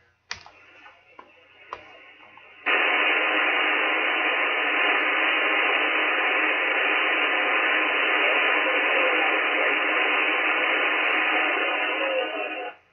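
Shortwave radio tuned to 6950 kHz gives a steady, loud hiss of static for most of the clip, preceded by a few seconds of quieter crackle and clicks, with only a very weak signal beneath the noise.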